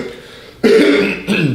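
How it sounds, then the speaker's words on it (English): A throat clearing from a presenter during a live broadcast comes as two close, loud, rasping bursts after a quiet moment, the second shorter than the first. "you will hear those noises if I have to clear my throat"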